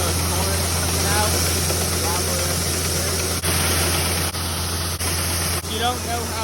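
A tractor engine holds a steady 1800 rpm while driving a grain auger moving harvested corn, a loud continuous drone with a constant hum underneath, with a person talking over it.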